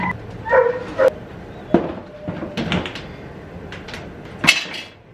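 A dog barks indoors in a home during house cleaning, with a few sharp, fairly close barks scattered among household clatter like doors or cupboards.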